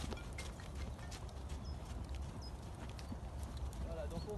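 A horse walks at a slow cadence, its hooves clip-clopping steadily over a constant wash of background noise.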